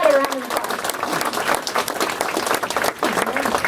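Crowd applause at a Washington, D.C. mayoral signing of an immigration executive order, continuous dense clapping with voices and cheers mixed in, loud and close.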